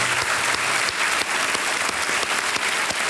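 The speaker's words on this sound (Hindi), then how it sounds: "तालियां बज जाएं इनके लिए।" Studio audience on the KBC quiz show applauds a female player who has just quit the game, a loud, steady wave of clapping from many hands, close and continuous with no speech over it.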